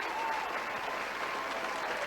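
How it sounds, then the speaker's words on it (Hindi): A crowd at a state-level employment day event with the Chief Minister breaks into sustained applause, a dense steady roar of many hands clapping that fills the whole stretch. "जोरदार तालियां हम सबकी।"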